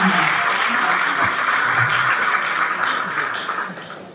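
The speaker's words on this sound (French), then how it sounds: "Veuillez applaudir pour le témoin du futur marié." Steady crowd applause at a civil wedding ceremony in Geneva fills the whole stretch, dense and even, easing slightly toward the end, with a few faint voices mixed in.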